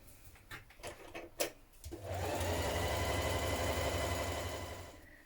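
A sewing machine stitches the sleeve seam of a long coat, running steadily with a fast mechanical whir after a few light clicks and handling taps at the start. The sound is close and even, with no talking.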